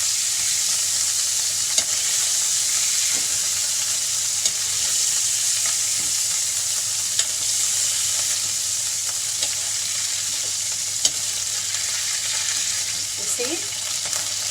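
Squid pieces sizzle in hot oil in a pan, a steady close crackling hiss with faint stirring taps, while a person speaks briefly near the end.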